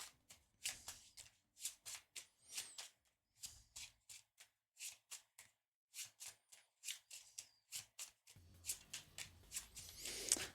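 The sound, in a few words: shuffling linen-finish playing cards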